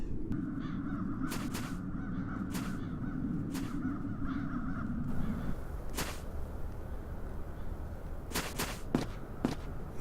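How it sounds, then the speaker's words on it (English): Crows caw repeatedly in short, sharp bursts from a dark-fantasy adventure game, spread across the scene over a steady ambient bed with a low droning layer that cuts out midway. "Those peculiar crows."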